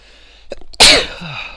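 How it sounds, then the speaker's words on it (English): A single sharp sneeze, close and loud, preceded by a couple of quick intakes of breath and followed by a brief exhale. "another sneeze"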